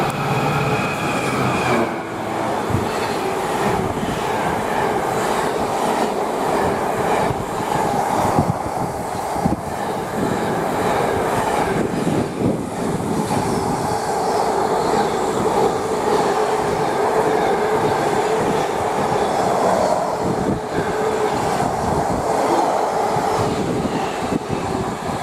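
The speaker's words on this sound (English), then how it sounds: "we've got a Daventry to Doncaster Tesco train. DRS, obviously, and it's going at quite some speed." A DRS Class 66 diesel hauling a Tesco intermodal freight from Daventry to Doncaster passes at speed on the West Coast Main Line at Tamworth, a loud, sustained roar with rhythmic rattling of wagons and wheels lasting the whole time.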